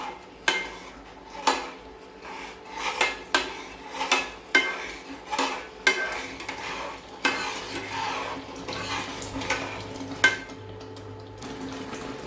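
Pineapple jam being stirred in a pot with a long spatula, making steady scraping and clinking strokes at a regular rhythm, each stroke a distinct knock against the pot, close and moderately loud with no talking.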